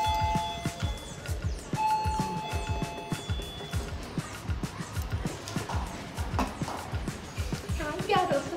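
A doorbell chimes twice in quick succession with clear ringing tones, followed by shuffling, knocking and people talking nearby.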